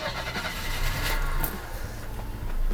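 A 1982 Mercedes-Benz W123 230E, warm and just restored after fuel distributor repair, cranks and fires into a rough, shaky running engine, a loud, close, continuous rumble with no talk.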